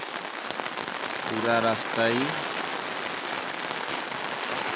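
Heavy rain pours onto a flooded street with a constant, hissing roar, while someone speaks briefly near the middle over the downpour.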